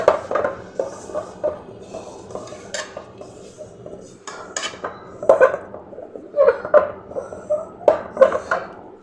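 Cauliflower for gobi manchurian is tossed and mixed in a bowl, giving irregular clinks and scrapes against the dish. The knocks come in uneven bursts, some louder, close up.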